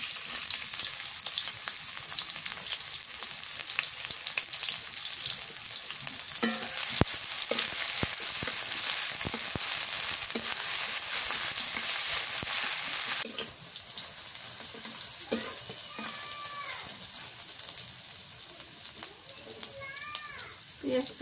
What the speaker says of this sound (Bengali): পেঁয়াজটা ভালো করে ভাজা নাইব লাল লাল ভাজা নাইব